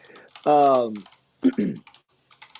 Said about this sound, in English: while Dane's typing away